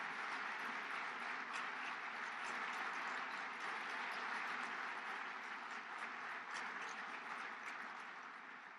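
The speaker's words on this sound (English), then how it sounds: "I'd ask all of you to join me in giving Dwight and all the retired civil servants here a big round of applause." Large audience at a presidential event applauding retired civil servants, a dense, sustained roar of clapping heard from a distance that carries on for nearly nine seconds before easing slightly at the end.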